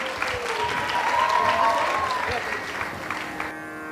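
Audience applause with cheering at a community evening devotional talk, a steady, dense clapping crowd that swells in the middle and then tapers off.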